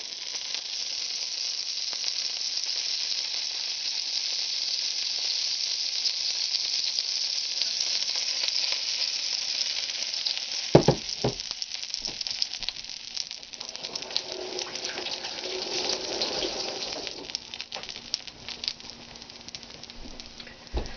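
Pancake batter poured onto a griddle heated to 300 degrees, giving a steady, close hiss of sizzling that turns busier and crackly partway through, with no talking.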